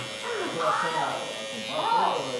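An Andis GTX Exo hair trimmer fitted with a Babyliss DLC blade buzzes close up while cutting hair, its whine rising and falling in two strokes as it passes upward through the hair.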